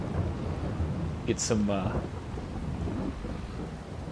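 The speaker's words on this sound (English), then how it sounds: "We're gonna run through this rain though." Rain and thunder in the Farming Simulator video game, a steady hiss of rainfall with low rumbling under it while someone speaks briefly over it.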